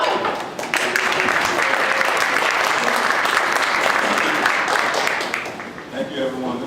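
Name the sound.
audience round of applause welcoming presenters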